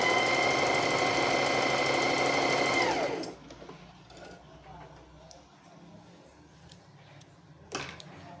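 A domestic sewing machine runs a closed three-step zigzag stitch in a loud, steady mechanical whir for about three seconds, then stops. Quiet handling noises follow, with a brief clunk near the end.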